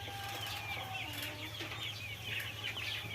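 A pen of 28-day-old male broiler chickens clucks and chirps in a soft, continuous chatter over a low, steady hum of farm equipment, with no voices.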